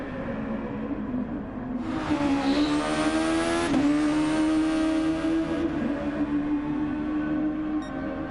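A 1998 Formula 1 race car in a racing video game at a classic Austrian circuit, its high-revving engine screaming up in pitch as it closes in and sweeps past loudly, then fading back into a steady drone.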